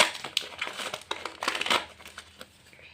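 A paper sticker packet is torn open by hand, giving a close run of sharp, irregular crinkles and rustles that peak in a busy burst before tapering off.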